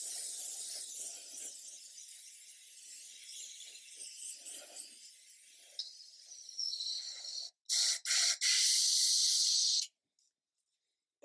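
An airbrush being cleaned after spraying enamel paint hisses in a soft, uneven stream that later turns into several loud, abrupt bursts of air before falling silent.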